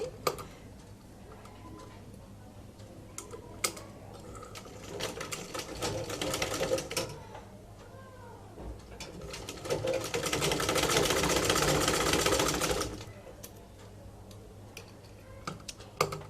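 A sewing machine stitches a zipper chain onto a garment in bursts of rapid mechanical chatter, with a short run early on and a longer, louder run near the end, separated by quieter handling clicks.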